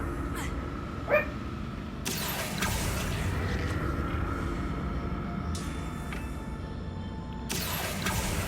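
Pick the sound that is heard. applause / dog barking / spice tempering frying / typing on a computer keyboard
dog barking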